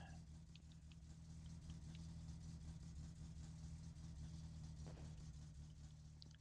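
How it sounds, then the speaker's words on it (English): Satsuma car engine in the game My Summer Car, running rough with a misfire: a steady low engine drone with uneven stumbles, continuous and fairly loud throughout. "Hear that misfire there?"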